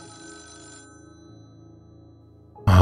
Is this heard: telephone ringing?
yes